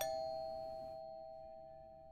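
A doorbell at the front door in the horror game Fears To Fathom (Home Alone) gives a single sustained chime that rings out clearly and slowly fades over about two seconds, with no other sound.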